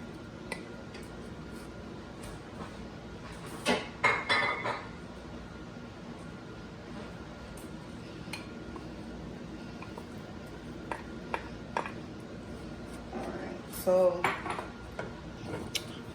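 A utensil scrapes and clinks against a bowl or pot while homemade dog food with added vegetables is mixed, with sparse quiet taps and a couple of louder clattering bursts over a low background.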